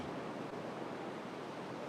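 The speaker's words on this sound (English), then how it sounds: "The sound of the sea." Steady broadband wash of sea waves and surf played back as calming background, continuous and fairly soft with no distinct breaks or voices.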